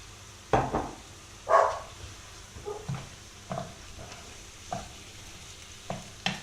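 Minced meat fries with softened onions in a pan, a low sizzle under repeated scraping stirs and soft knocks of the spoon, close and fairly quiet.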